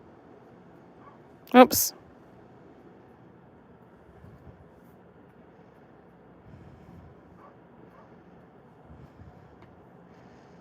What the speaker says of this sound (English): Who are you and why are you barking?